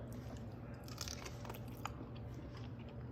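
Biting into smoked baby back ribs cooked on a Z Grills pellet grill, a close, continuous crunchy chewing texture with a few sharper crackles, no talking.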